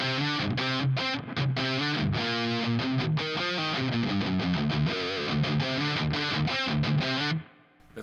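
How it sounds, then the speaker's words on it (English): A distorted electric guitar played through an Analogman King of Tone overdrive pedal plays a rapid, chugging riff with a thick overdriven tone, then stops abruptly near the end. "a really good overdrive pedal"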